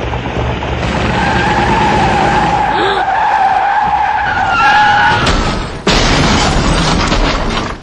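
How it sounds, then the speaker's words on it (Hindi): A car skids and crashes on a highway in a road-safety advertisement: a long, loud tire screech runs for several seconds, followed by a sudden heavy impact and a crash that trails off, with no talking. "इतनी तेजी से गाड़ी को हाईवे पर लाने के बाद क्या इस एक्सीडेंट को रोका जा सकता था?"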